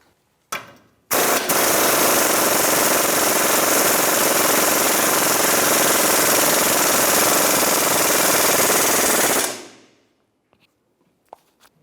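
Impact wrench on a 24mm socket snugging a bolt during a lower control arm job on a 2002-2005 Ford Explorer, a brief burst, then a loud continuous rattling hammer for about eight seconds that cuts off, with faint clicks after.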